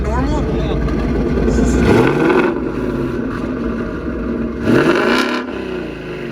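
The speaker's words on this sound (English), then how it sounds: "listen to them turbos come through the exhaust" Loud twin-turbo 2019 Mustang GT revving near the listener, two sharp throttle blips rising and falling over a rumbling idle, turbo whoosh carried through the exhaust, with voices talking over it.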